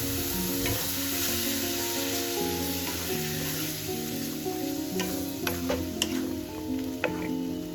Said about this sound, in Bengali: টমেটো আর কাজুর পেস্টটা দিয়ে হালকা কষে নিচ্ছি